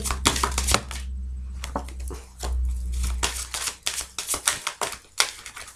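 Tarot cards are shuffled and dealt out for a nine-card spread: quick, close papery flicks, riffles and taps in uneven bursts over a steady low hum.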